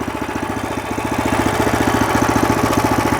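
A WEIMA walk-behind tractor engine runs close by with a loud, steady rapid chugging, building slightly in strength as the machine shifts into reverse and moves backward, with no talking.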